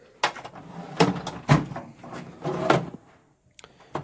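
Metal drawers on a Harbor Freight tool box slide open and shut, giving several close clunks and rattling scrapes spaced apart, then a short quiet stretch and a couple of light clicks.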